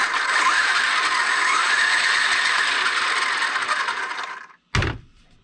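A Traxxas X-Maxx RC truck's servo and motor whine at about 5% throttle, a close, steady high electric buzz that fades out and ends with a brief sharp clunk.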